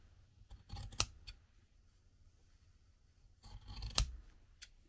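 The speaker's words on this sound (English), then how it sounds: "Since I want these all the same length, I'm trimming like this" Scissors trim felt pieces to equal length for a needle book insert, giving two sharp close snips about three seconds apart, each with a light rustle of fabric around it.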